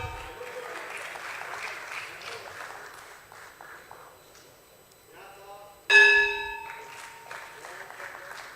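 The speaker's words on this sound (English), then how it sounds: "You can keep the claps going, you know." Applause fills a Jio Financial Services listing ceremony at the BSE, a steady wash of many hands clapping under an announcer's voice, with a bright bell ring struck near the six-second mark and fading as the clapping carries on.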